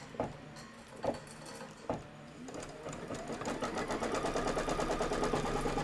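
A quilting embroidery machine stitches a filler placement line, starting with a few separate needle thumps and then settling into a fast, steady mechanical rattle close by.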